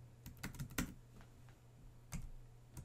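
Quick, light keystrokes on a computer keyboard typing into a Gmail search box, coming in irregular bursts with short pauses, close and fairly quiet.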